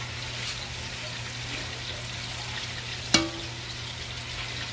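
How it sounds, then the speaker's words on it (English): Meat sears in a pan with a soft, steady sizzling hiss at low volume, broken once by a sharp metallic clink. "I'm gonna finish searing these off"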